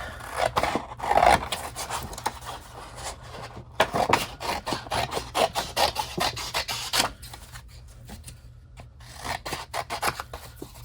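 Scissors snip and rasp through fabric trimmed to cover a journal, close and fairly loud. Irregular cutting strokes and rubbing scrapes come in uneven bursts with brief pauses, and no one talks.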